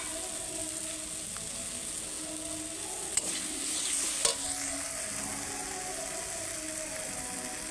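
Tomatoes with turmeric powder stirred in a pan while cooking down for a chutney, giving a steady, even sizzle with a couple of sharp utensil clicks partway through.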